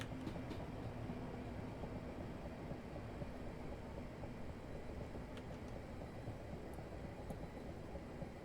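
A Class 378 London Overground electric train in Train Simulator runs on the West Coast Main Line toward London Euston, a steady, continuous low rumble and rail hiss with faint higher ticks, unchanging throughout.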